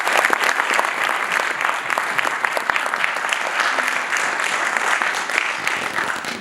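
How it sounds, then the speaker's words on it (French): A large conference audience at an entrepreneurship event claps continuously for a speaker, a thick, even wash of applause holding at a steady level for several seconds. "Alors, un tonnerre d'applaudissements pour Monsieur Chun Yang."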